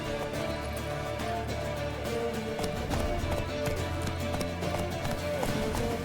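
Horse hooves clop rhythmically in a steady gallop in The Witcher 3, close and clear over faint ambient background, lasting several seconds with no speech.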